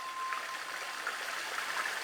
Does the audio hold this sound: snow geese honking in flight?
no